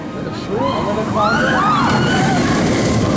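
Taron roller coaster at Phantasialand roars past toward its second launch, a loud rushing whoosh with rising and falling whines over wind buffeting the microphone.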